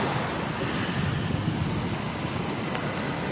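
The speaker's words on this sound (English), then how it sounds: "So I had to come down here and check out the spillway." Floodwater from a high lake roars through a massive spillway in a dense, unbroken rush, loud and steady with a broad wash of noise throughout.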